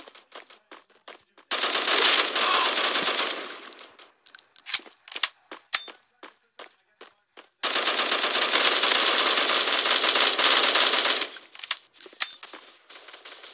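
Automatic weapon fire in the Bullet Force video game comes in two long sustained bursts of rapid, sharp shots, with scattered single clicks and clinks between them.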